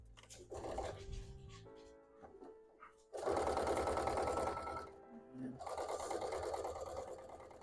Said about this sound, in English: Now we're gonna sew up this, the hat part, and then we'll stuff the ears.